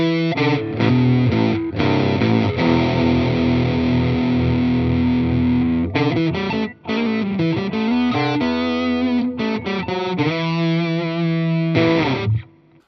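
An electric guitar rig run into a Crate solid-state amp, played as thick, distorted, effects-laden chords and riffs. Loud and continuous for about twelve seconds, with a couple of brief drops in the middle and a cut-off at the end. No talking.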